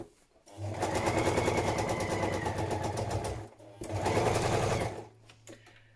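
A sewing machine stitches a padded patchwork journal cover in two loud, rapid, rhythmic runs, with a brief pause between them for turning the fabric.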